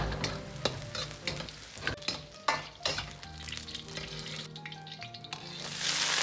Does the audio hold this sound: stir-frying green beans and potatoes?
yes